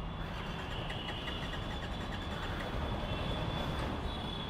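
A TVS Apache RR 310 motorcycle with an engine malfunction warning runs in a loud, steady, unbroken roar that stays close and constant for several seconds, with no talking over it.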